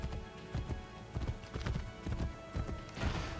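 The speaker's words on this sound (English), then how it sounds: "Faster to travel by horse." Horse galloping in the video game Assassin's Creed Brotherhood, with quick rhythmic hoofbeats in steady clusters, fairly close and clear, without talk over it.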